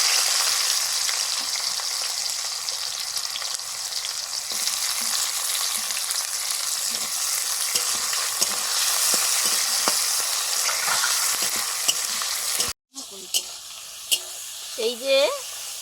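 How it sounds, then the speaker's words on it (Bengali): Dried chili and chopped onion frying in mustard oil, a steady close sizzle with occasional stirring clatter, then a brief cut and a few sharper clanks near the end. "সর্ষের তেল দিলাম শুকনো লঙ্কা পেঁয়াজ কুচি"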